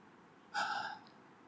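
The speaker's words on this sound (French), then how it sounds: "Donc vous voyez, là j'ai dégluti" A person's swallow: a single soft gulp with a brief airy catch, close and quiet, lasting under half a second against a still background.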